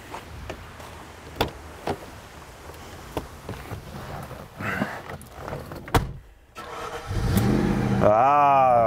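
Clicks and a door thud give way to a car engine cranking and catching, then revving up and down loudly nearby.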